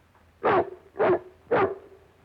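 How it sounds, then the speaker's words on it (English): In a feature film, a dog barks three times at an even pace, each bark loud and close, with short quiet gaps between them. "Throw the dog out, Charlie."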